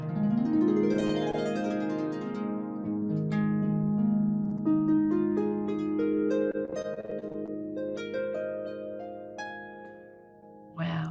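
A pentatonic Far East style melody picked on a stringed instrument, bright plucked notes ringing and overlapping over a sustained low tone, played alone at moderate volume for several seconds.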